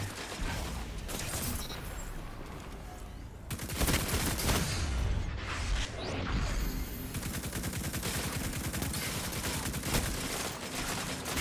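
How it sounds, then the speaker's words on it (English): Video game gunfire, rapid automatic bursts and repeated shots with mechanical clatter, loud and close, running almost continuously throughout. "I was shooting."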